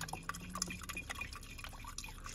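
Water drips and trickles in a small run of irregular drops, scooped from a pond and poured in while filling a PC liquid-cooling loop. The drops sound fairly close and quiet, with no talk.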